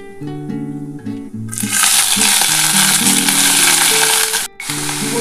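Radish greens drop into hot oil with frying mustard seeds and dried chilli, setting off a loud, sudden sizzle that holds steady for a few seconds before cutting out, while faint music plays underneath.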